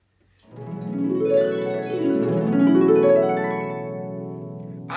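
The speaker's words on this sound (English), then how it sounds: "I just played our most famous effect on the harp. It is called a glissando." A harp glissando sweeping up and down across the strings, bright ringing notes cascading in broad waves, close and fairly loud.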